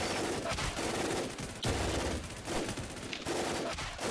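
Video game gunfire, repeated bursts of automatic shots with short pauses between volleys, fairly loud and continuous across several seconds.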